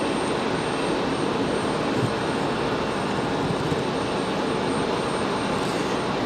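Steady broadband roar of an Alaska Airlines jet arriving on runway 23 left at Raleigh-Durham International, heard at moderate level and holding even across the clip with no talk.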